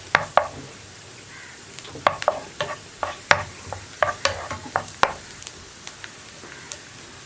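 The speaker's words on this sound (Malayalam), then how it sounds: "നമുക്കിതിലേക്ക് തക്കാളി ചേർക്കാം" Tomatoes and onions sautéing in a pan for grape chammanthi, stirred with a utensil that clicks and scrapes against the pan in an irregular rhythm over a soft, steady sizzle, close and alone with no talk.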